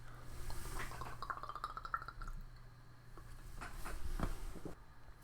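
Apple pie flavored whiskey, a 42 proof spirit, sloshes and gurgles as it is drunk straight from a glass bottle, with faint glassy clinks and liquid drips in a quiet room.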